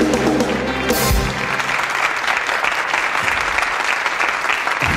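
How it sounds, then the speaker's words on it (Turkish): Studio audience bursting into applause on a Turkish television show, a loud dense wave of clapping that starts after a brief voice and continues steadily to the end. "Herkes alkışlar."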